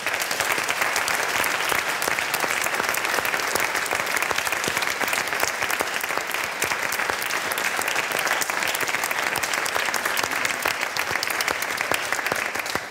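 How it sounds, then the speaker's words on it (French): An audience at a French national debate championship final applauds continuously, a dense, even wash of clapping held at a loud, steady level for the whole stretch. "je vous demanderai d'applaudir les 22 associations qui ont concouru cette année"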